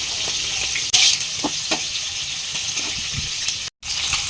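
A hilsa fish head fries in hot oil in a pan, giving a loud, steady sizzle with crackling bursts and a few clinks, briefly cut off near the end.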